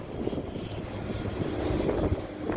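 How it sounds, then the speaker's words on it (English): An airplane passes overhead, a steady low droning engine rumble that swells slightly as it goes by, heard alone with faint wind. "look at this plane going right over my head"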